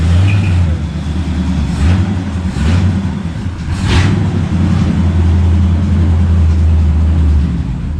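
A 1979 Chevrolet Camaro with a 307 V8 and T10 four-speed, a long-stored field find, runs and drives. Its loud, close, rumbling exhaust holds steady with slight surges of revving throughout.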